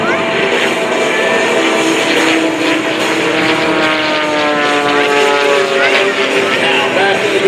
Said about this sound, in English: The aircraft tumbling out of control on the vertical up line, and now points the nose straight back down.